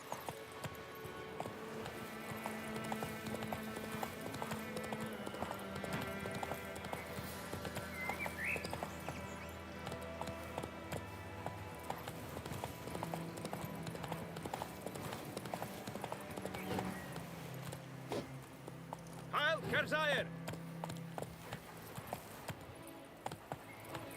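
In The Witcher 3, a horse trots with steady, soft hoof clip-clops against a game music bed, with a brief brighter accent near the end.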